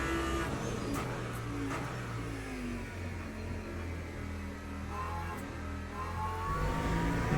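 Race car engine in the Le Mans Ultimate sim at Interlagos, holding a steady loud drone with the throttle fed in smoothly and progressively, pitch rising and easing through the corners, with no talk over it.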